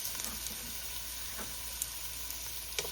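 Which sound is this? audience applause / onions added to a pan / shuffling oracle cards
onions added to a pan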